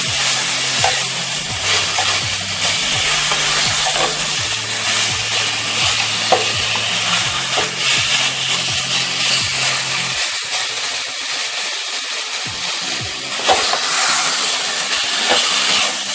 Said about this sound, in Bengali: এবার আলুর সাথে মশলাটাকে ভালোভাবে আমি ফ্রাই করে নিচ্ছি।